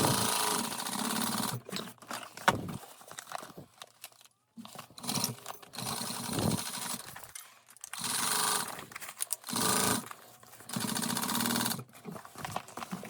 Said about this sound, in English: And we're back stitching.